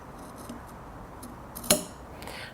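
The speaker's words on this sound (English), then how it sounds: "we're just going to clip off a little triangle of fabric but not cut through" Scissors snip once at the corner of sewn fabric, a single crisp close cut in an otherwise quiet room.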